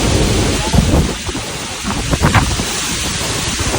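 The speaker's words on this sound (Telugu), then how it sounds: "ఫ్రెండ్స్ చాలా పెద్ద గాలి వస్తుంది." Strong wind storm with rain roaring steadily at a home, loud broadband rushing with gusts and a few low rumbles, no talk over it.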